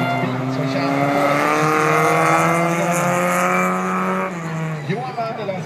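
Folkrace cars race around a track at a festival in Motala, with loud, close, sustained engine drones at rising pitch, one car revving hard and then easing off near the end, under an announcer's voice.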